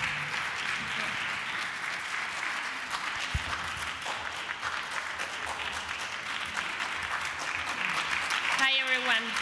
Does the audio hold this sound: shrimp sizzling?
no